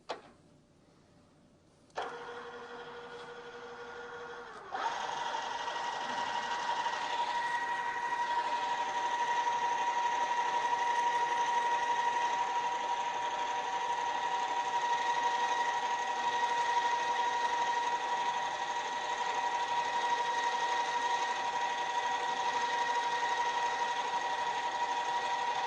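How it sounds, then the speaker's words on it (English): A drill press drills metal with a 1/4 inch bit, using cutting fluid after a center drill: a steady mechanical whine with a strong sustained tone that holds loud and even throughout, following a quieter motor hum at the start. "And now move on to the 1/4 inch drill."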